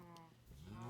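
Cow in a Minecraft cow farm, a pit packed with about 24 cows above a hopper, gives one long, rising moo that swells in loudness toward the end.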